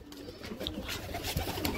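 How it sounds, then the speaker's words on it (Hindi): A jeere pigeon coos softly nearby, a low repeated call under steady background noise with no talk. "मेरा मेन कबूतर है भैया"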